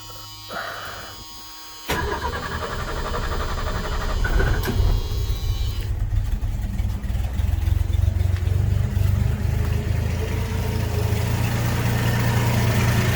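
A freshly fuelled and primed 1977 Ford F100 pickup truck cranks and fires up, then settles into a steady loud idle with a rough, low rumble, close by, with no talking.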